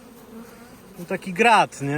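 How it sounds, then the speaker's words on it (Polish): Honeybees buzz in a steady, close drone while a hive is opened for inspection in August. Someone speaks briefly over the hum. "Dzisiaj pszczoły reagują na przeglądy"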